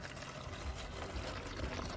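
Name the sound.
water being poured into a container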